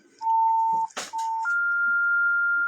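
Steady electronic tones on a phone line during a radio call-in football show: a held beep, a brief noisy burst, then a short tone and a longer, higher sustained beep with no talking.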